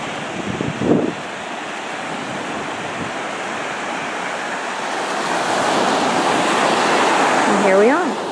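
Rough Gulf of Mexico surf washing onto the beach under a cloudy sky, a steady broadband wash of breaking waves with wind rumble on the microphone, building slightly toward the end, with a brief voice near the start.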